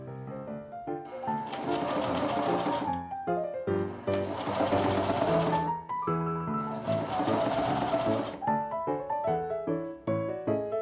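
A sewing machine stitches a dress armhole in three loud, sustained runs of rapid needle chatter, separated by short pauses, with a clicking handwheel and fabric handling between bursts.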